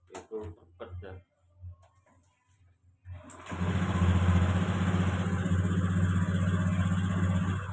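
Honda Beat fuel-injected scooter with a misfiring fault: a few quiet clicks and knocks, then the engine starts and runs loud and close, idling with a rough, uneven sputter.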